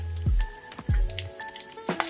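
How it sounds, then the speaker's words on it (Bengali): A dry red chilli and a bay leaf drop into hot mustard oil in a wok, giving a few sharp sizzles and crackles as each hits the oil, then lighter spitting and popping. "আমি কড়াইতে 3 চামচ সরষের তেল নিয়েছি ও সাথে একটি শুকনো লঙ্কা ফোড়ন দিলাম, সাথে তেজপাতা দিলাম"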